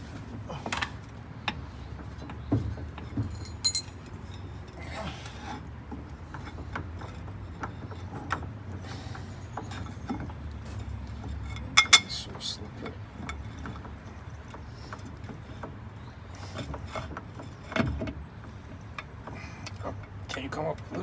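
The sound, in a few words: rummaging through metal bolts and parts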